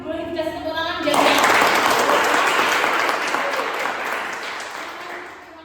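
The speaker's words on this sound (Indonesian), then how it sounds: "Boleh dikasih tepuk tangan jaga." A classroom breaks into loud applause right after a voice finishes speaking, the dense clapping starting abruptly, staying strong for a few seconds, then gradually fading.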